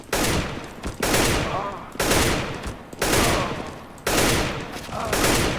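AK rifle firing short bursts in the game CS:GO, five sharp repeated volleys about one second apart, loud and close, each ending in a brief ringing decay.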